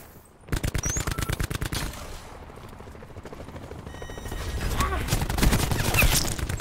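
Maddox rifle fire in Call of Duty Blackout, a rapid burst of loud, evenly spaced shots early on, followed by a denser wash of game noise and further distant gunfire.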